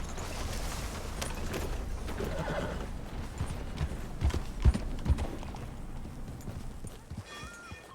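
Horse hooves clip-clop steadily in a video game, a rhythmic trotting close by that slows and breaks up midway with a few sharper knocks, then fades toward quiet.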